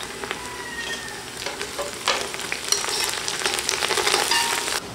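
Mint and coriander leaves sautéing in a hot pan, a steady close sizzle with crackles and faint stirring scrapes running throughout, no voices.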